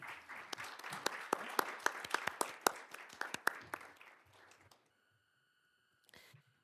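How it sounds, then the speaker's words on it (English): An audience at a school board meeting applauding its board members, clear individual claps that thin out and stop after a few seconds, followed by a faint electronic tone. "Let's round of applause for our school board members."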